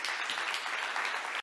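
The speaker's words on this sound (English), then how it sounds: "Warm round of applause, please, for Luis." An audience gives a warm round of applause at an event on ecosocial education, dense, steady clapping that fills the whole moment and cuts off abruptly at the end.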